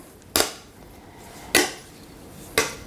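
Three sharp metallic clanks at steady intervals as onion pieces are knocked into a frying pan, each fading quickly in a quiet room.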